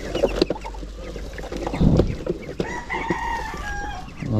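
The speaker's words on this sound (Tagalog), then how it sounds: "Yan po yung mga alaga natin pato." Penned ducks at a farm fishpond give close, throaty clucking and quacking calls in irregular bursts over a steady low background murmur.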